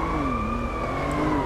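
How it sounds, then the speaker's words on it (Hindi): Police sirens wail steadily in GTA 5, with a continuous rising and falling tone and several overlapping sirens sounding loud and close throughout, no talking. "पुलिस की पता नहीं सायरन क्यों गूंज रहे"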